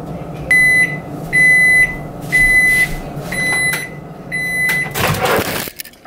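A kitchen microwave oven gives a run of loud, evenly spaced finishing beeps, then its door is pulled open with a brief clattering burst at the end.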